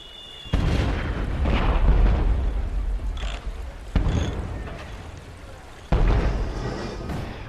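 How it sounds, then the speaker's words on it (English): German shelling and mortar fire landing around a bridge crossing during a World War II armored advance: three heavy, loud booms, each followed by a long, rolling rumble that slowly fades. "the Germans know that the bridge is going to mean armor, and they're shelling them continuously or mortaring them"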